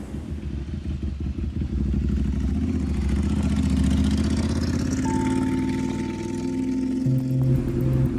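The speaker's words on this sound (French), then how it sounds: "Sa moto sort de révision." Ducati motorcycle fresh from servicing, its engine running steadily and close with a deep mid-range rumble and some clatter, then a tonal whine joining near the end.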